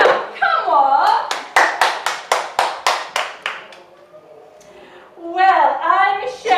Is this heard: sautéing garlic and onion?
no